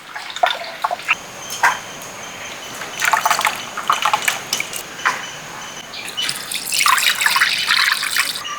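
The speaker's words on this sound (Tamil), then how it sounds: "ஆ மழை பெய்யுது" Rain dripping and trickling outdoors near a home kitchen, heard as irregular close patters and drips with brief louder bursts, with no talk.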